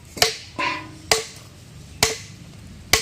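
Firewood being chopped into smaller pieces for a clay cooking stove, giving five sharp, separate axe strikes at uneven intervals, fairly close and loud, with quiet gaps between blows and no talking.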